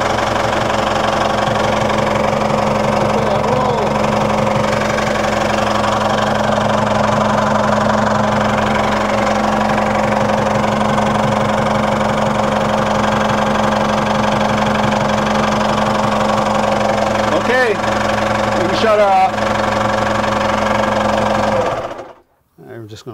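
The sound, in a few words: Volvo Penta engine running at idle after oil change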